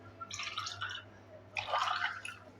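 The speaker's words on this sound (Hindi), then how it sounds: "और अब हमें इसमें डाल देना है पानी।" Water splashes and gurgles into a glass of ice in two short pours, close and soft, while making a cooling summer sabja seed sherbet.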